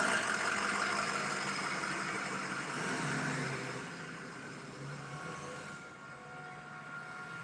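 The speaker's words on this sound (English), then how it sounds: "Big old monster truck going by." A big monster truck rumbles past a mailbox store, a broad, fairly quiet roar that swells early on and then slowly fades as it moves off.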